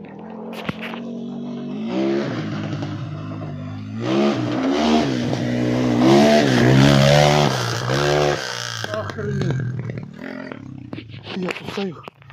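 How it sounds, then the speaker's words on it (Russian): An enduro motorcycle on an outdoor spring ride revs loudly nearby, its engine note rising and falling in repeated throttle blips for several seconds before dropping back to idle. "Он еще газует так."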